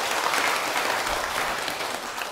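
An audience at a Buddhist lecture applauds in a steady, dense wash of clapping that fills the whole moment without any talking.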